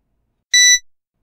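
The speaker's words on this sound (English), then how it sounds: "I know I wanted a high-pitched beep, so the first thing I did was use one of GarageBand's synthesizer pianos, pitch it up a few octaves" A GarageBand synthesizer piano, pitched up several octaves, gives one short high-pitched electronic beep. It rings briefly in silence and is followed by a faint little tail.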